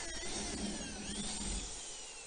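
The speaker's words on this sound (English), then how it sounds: "Now my dad's drilling all the holes" Power drill boring bolt holes through an insulated door, a steady whining drone with a low motor hum running continuously and close by, no speech.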